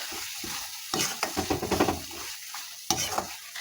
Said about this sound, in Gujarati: બરાબર મિક્સ કરી લઈએ